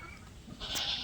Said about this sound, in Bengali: এটা হচ্ছে আমাদের বকরি গাইজ এটা